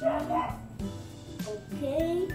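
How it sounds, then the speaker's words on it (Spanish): A small dog yaps a few times in the background while a person speaks briefly nearby. "si escuchan de fondo eso del ladrito"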